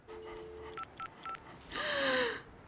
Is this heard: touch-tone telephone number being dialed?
yes